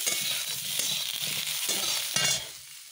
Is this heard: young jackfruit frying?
yes